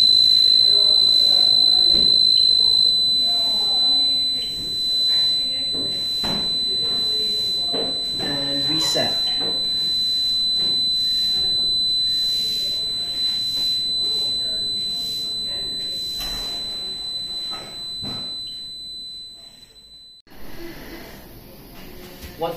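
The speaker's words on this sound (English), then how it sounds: "you can simply silence the alarm by clicking silence" Fire alarm buzzer sounding from a custom-built smoke damper control panel, a steady high electronic tone running continuously before cutting out near the end, with a second tone briefly layered early on and faint background noise beneath.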